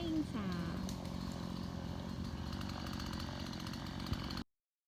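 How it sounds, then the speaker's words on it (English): A chainsaw cutting through brush outdoors in the rain, running loud and steady for about four seconds with a constant engine drone, with a voice talking briefly over it before it cuts off. "We're chopping the brush. My mom has got a chainsaw."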